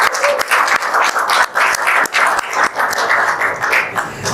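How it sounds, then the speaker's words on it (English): A small group at a storytelling workshop gives a round of applause, with close, uneven handclaps coming in quick bursts and short gaps. "let's give a round of applause for the story you created"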